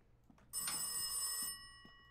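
A telephone bell rings once in a short, loud burst, about a second long, in the horror video game Rise of Insanity, over a quiet, still background.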